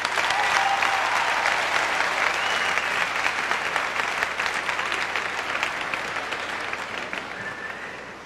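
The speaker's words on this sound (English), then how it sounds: "let's hear it for Yigal Calek!" Sustained audience applause, dense clapping throughout that gradually fades toward the end, with a few faint cheers.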